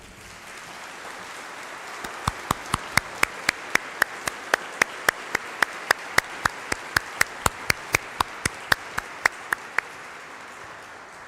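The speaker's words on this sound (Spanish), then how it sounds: "lo hacemos público con un fuerte aplauso" Audience applause at a farewell and recognition ceremony for a judge, a dense steady roar of clapping with a run of sharp, evenly spaced claps standing out in a rhythmic beat through the middle.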